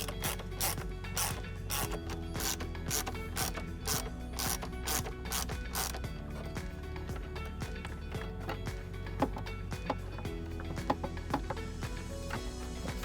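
A hand ratchet clicks in quick, even strokes while reinstalling two 8mm bolts on an Audi B9 A4/S4, the close metallic pawl ticking steady at first and then in looser, scattered clicks.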